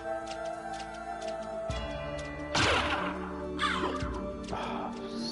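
Attacking birds caw loudly in Castlevania: Symphony of the Night, two harsh squawks standing out over sustained game music and light ticking effects, the first the strongest and the second following about a second later.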